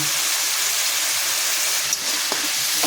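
Green chili paste and salt fry in a pan in a loud, continuous close sizzle, with a couple of brief clicks of the spoon near the end.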